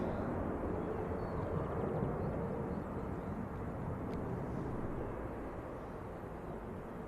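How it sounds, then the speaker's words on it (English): EasyJet airliner taxiing at Manchester Airport, its engines giving a steady, broad low roar at moderate distance that stays constant throughout, with no voices. "EasyJet taxiing out for Hurghada."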